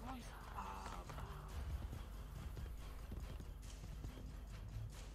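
Horse hooves in Assassin's Creed Brotherhood, quick rhythmic clip-clop of a running horse heard close, with a brief whinny-like tone and someone talking over the hoofbeats.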